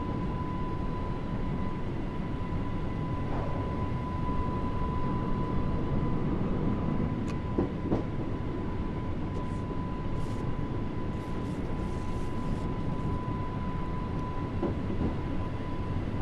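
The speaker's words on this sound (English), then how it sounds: "the train will automatically get itself down there with the gravity" A Class 484 electric train in Train Sim World 5 rolls steadily down the line from Ryde Pier Head toward Shanklin, giving a continuous rumble with a faint steady tone and no speech.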